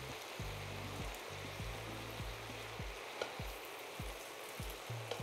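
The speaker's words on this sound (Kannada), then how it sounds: "ಈಗ ಚೆನ್ನಾಗಿ ಮಿಕ್ಸ್ ಮಾಡ್ಕೊಂಬಿಡೋಣ." Chicken hakka noodles made with Ching's whole wheat noodles and masala are stirred in a frying pan, giving a steady soft sizzle broken by regular scraping strokes of the spatula against the pan.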